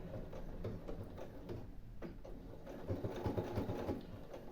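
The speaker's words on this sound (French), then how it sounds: "dès que l'aiguille de la machine arrive au niveau de l'épingle, je fais mon point d'arrêt" A domestic sewing machine runs steadily while stitching a backstitch to lock a seam at a pin, giving a continuous close mechanical whir with a fast rhythmic needle patter and no talking.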